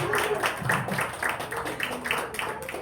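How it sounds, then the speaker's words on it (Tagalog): Church congregation clapping during a sermon, a brisk run of distinct, fairly close hand claps in a quick steady rhythm across the whole stretch, with a faint voice murmuring underneath. "Pumalakpak yung ayaw umabsent."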